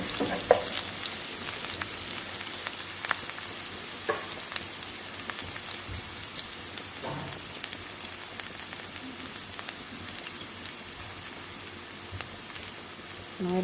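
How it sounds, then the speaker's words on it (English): Scallions and other aromatics fry in hot oil in a pan for Jamaican ackee and saltfish. A steady close sizzle carries on throughout, with occasional stirring clicks. "Release those aromatics in the pan,"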